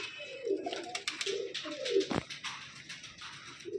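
Pigeons coo softly in short, repeated throaty phrases, close and fairly quiet, with a sharp knock partway through and faint background noise.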